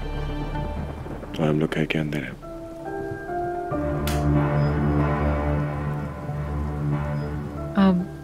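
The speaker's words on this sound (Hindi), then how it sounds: "बारिश बाहर हो रही है" Rain falls steadily outside a house as a soft, continuous wash with a low rumble, running under a man's speech and a tonal musical background.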